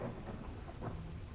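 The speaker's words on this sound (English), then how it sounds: "it is a thunderstorm." A thunderstorm in the video game The Last Caretaker rolls on as steady, broadband rain with a low rumble of thunder swelling in the middle, with no voices present.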